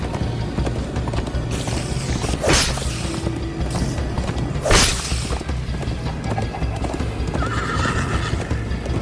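Rhythmic hoofbeats of a horse galloping steadily in Minecraft: Story Mode, with a couple of whooshing swells and a whinny, loud and continuous with no voices.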